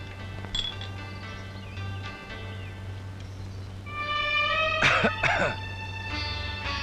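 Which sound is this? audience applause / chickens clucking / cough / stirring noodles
cough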